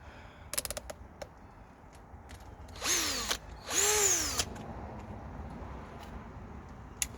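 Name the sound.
Harbor Freight Bauer hammer drill driving regular screws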